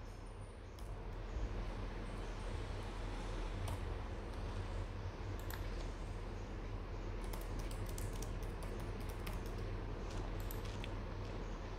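Code being typed on a computer keyboard for an Angular 15 validation demo, faint scattered key clicks over a steady low hum, with short quick bursts of taps toward the end.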